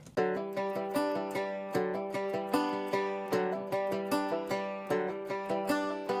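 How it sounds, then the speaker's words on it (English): Resonator guitar and banjo, one panned left and one right, play together in a bright, steady plucked pattern for a pop country track, with rhythmic picked attacks throughout and no talk. "And the resonator and banjo parts together sound like this."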